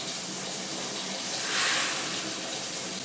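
Hot water running from a tap into a turkey brine of kosher salt, a steady gushing hiss that swells slightly near the middle and carries on without talk.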